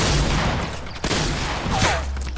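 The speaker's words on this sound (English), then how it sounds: "Stop shooting me, please, for 1 second!" Rapid bursts of video game gunfire crackle close and loud across the whole moment, a sharp crack landing near the middle, with no talking over it.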